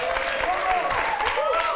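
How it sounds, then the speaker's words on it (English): Brief burst of audience applause at a 2007 televised European poker tournament as a player wins a hand, a short, steady patter of many hands clapping. "Huge applause again for Goodwin."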